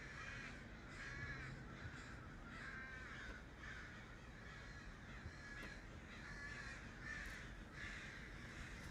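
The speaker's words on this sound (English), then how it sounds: "You hear those crows? These are crows." Repeated harsh caws from several crows, calling in a steady rhythm at a moderate distance over a faint background hiss.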